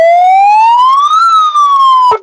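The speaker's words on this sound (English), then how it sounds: "car siren." A police car siren wails loud and close, one long tone sweeping up then down before cutting off abruptly, played out of a car sunroof.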